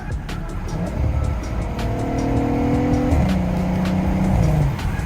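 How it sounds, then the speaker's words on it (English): A modified Volkswagen with a custom intake drops from fourth to third and accelerates, its engine note rising in clear harmonic sweeps, dipping at the shift, then climbing again, loud and close from inside the car with no talk. "I'm gonna drop to 3rd and give just a little bit"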